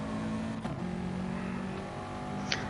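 A BTCC race car engine in GT Sport drones steadily at high revs, a continuous buzzing note with a short shift blip partway through, heard alone without talk.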